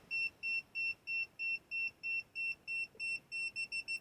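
Klein 935DAA digital angle gauge beeping as it nears its set angle: a regular series of short electronic beeps, about two per second, that speed up into quicker pulses at the end, clear and close with no talk.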